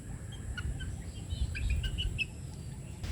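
Butcher Mt. Banahaw line chicks peep in faint, scattered high chirps over a low rumbling background, several overlapping calls clustering midway, fairly distant and with no talking.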